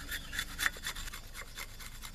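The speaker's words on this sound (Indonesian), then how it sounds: "di sini Bunda akan memarut dengan menggunakan parutan keju ya" Something is rubbed quickly back and forth over a cheese grater, giving a brisk run of about a dozen rasping scrapes. The strokes are close and moderately loud, with no talking.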